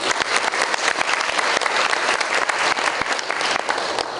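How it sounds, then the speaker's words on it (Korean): A hall audience at the final of a Korean university debate contest claps loudly and steadily for several seconds, dense even applause with no voices on top. "힘찬 박수 부탁드리겠습니다."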